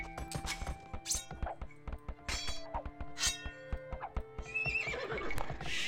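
Horses neigh and whinny with clip-clop hooves in an Age of Empires 2 HD Mongols match, with frequent loud calls over scattered clanks and clinks of in-game battle.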